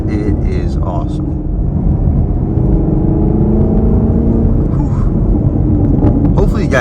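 A Chevy Camaro LT1 drives along with a deep, steady engine drone and road rumble that builds slightly, heard from inside the car while people talk over it.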